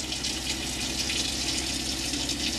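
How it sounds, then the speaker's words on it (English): Hot water runs steadily from a kitchen tap in a Tribute F62 caravan, fed by its water pump, giving a continuous close hiss with a low pump hum underneath and no talking. "once you put your water pump on the tap, you'll be able to, on your control panel, the tap will work"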